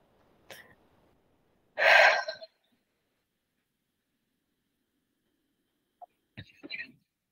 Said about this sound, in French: Ok, on inspire.